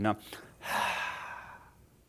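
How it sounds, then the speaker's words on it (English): A single deep, audible breath drawn in and then slowly exhaled, close and quiet, during a guided meditation breathing exercise, with a short voiced sound just before it. "Now breathe again and normal breath."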